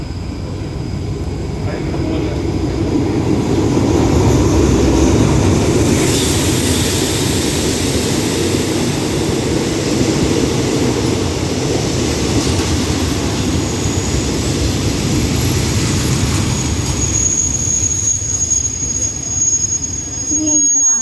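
A commuter train, number 351, pulls into Ban Pong station in Thailand, its loud, sustained rumble and wheel noise rolling on steadily close by and easing slightly near the end.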